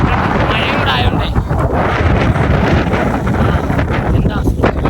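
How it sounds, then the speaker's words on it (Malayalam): Strong wind buffets a microphone on a rainy hilltop at Rajathottam, a loud, continuous roar and rumble of gusts with no break or quiet moment. "നല്ല കാറ്റുണ്ട്. മഴയും കൂടെ ആയോണ്ടേ"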